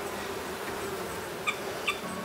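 Bees buzzing among the vines of the Scharzhofberg vineyard, a steady faint outdoor hum with two brief louder passes as insects fly close.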